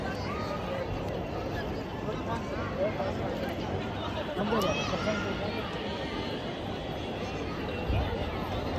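Busy crowd at Jama Masjid in Delhi: a constant babble of many voices with shuffling movement, nearby speakers rising above the steady hubbub.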